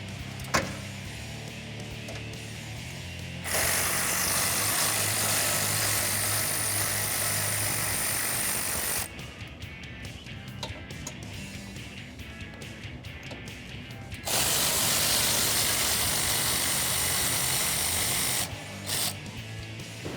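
A ratchet with a 12mm socket on the rear bumper hitch bolts of a 2016-2021 Toyota Tacoma, heard as two long, loud bursts of rapid clicking separated by quieter handling noise.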